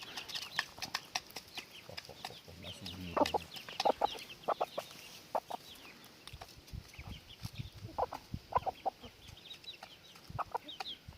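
Chickens, now grown into large birds, cluck in a busy flock in a backyard coop, with repeated short calls scattered throughout and a brief low thump near the start, no talking.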